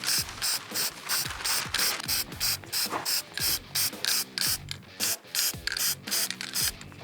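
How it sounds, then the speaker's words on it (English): Rapid, rhythmic spray bursts with a ratcheting mechanical clatter sound close up while a DIY plywood plyo box is painted, the pulses repeating steadily and loudly throughout. "And now we're just painting it."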